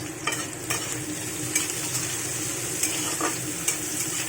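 Green chilies and shrimp sizzling in a hot pan, a steady close crackle broken by several sharp scrapes and clinks of a spoon stirring against the metal.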